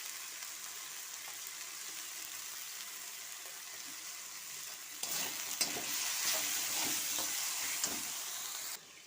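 Onion paste frying in a spice masala while being stirred, a steady sizzling hiss with scraping stir sounds that grows louder partway through as the mixture is worked in the pan.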